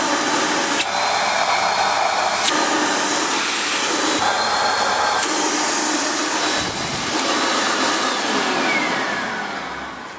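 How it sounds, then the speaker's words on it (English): An Electrolux Work Zone vacuum cleaner runs steadily and loudly close by, with a constant whining motor hum and airflow. Brief shifts in pitch suggest the nozzle moving over surfaces. "For a little Hoover like that, and I weren't expecting it to be very good, but it did suck up quite a lot."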